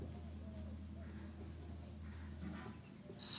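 A pen or pencil scratches on paper while a maths geometry proof is written out, the strokes faint and steady under a low hum, with soft speech in the background.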